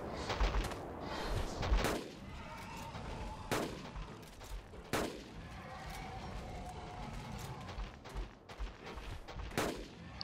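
Several sharp rifle shots from the hunting game Carnivores Dinosaur Hunter Reborn, fired one at a time at irregular intervals, each loud and close with a short boom, over a steady outdoor background of dusk in Delapheus Hills.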